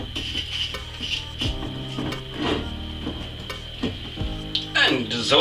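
A metal lid clanks onto a pot during perry bottling, with several clattering knocks and scrapes of cookware close by, partly under a speaking voice.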